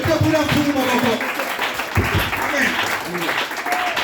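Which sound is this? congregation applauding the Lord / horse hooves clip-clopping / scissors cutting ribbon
congregation applauding the Lord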